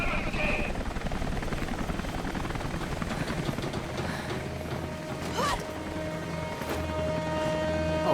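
Steady whirring rotor drone of a supply helicopter in Rise of the Tomb Raider, with mechanical clanking, running continuously alongside busy in-game effects.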